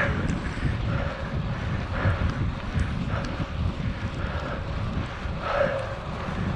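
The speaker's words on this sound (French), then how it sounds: "Là, je suis contre le vent." A headwind blows against a cyclist on a 60 km out-and-back road ride, making a steady, loud rush and buffeting at the microphone that lasts the whole stretch, with no talking.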